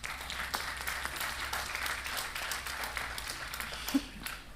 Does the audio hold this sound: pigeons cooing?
no